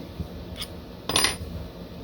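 Brief metallic clinks and a short rattle as a muzzle brake is pulled off a 1911 pistol during cleaning, two close, light knocks of metal on metal in a quiet room.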